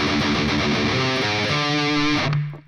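Two measures of a death metal riff on heavily distorted electric guitar, loud and dense with chugging low notes, played alone without talk and ending abruptly.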